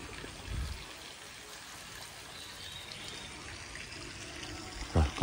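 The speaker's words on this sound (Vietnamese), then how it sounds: "ngồi ngay đây là cũng thấy dòng suối nè, nước chảy" A stream flows steadily beside a garden house in a rural orchard setting, a soft continuous wash of water with a couple of brief louder knocks nearby.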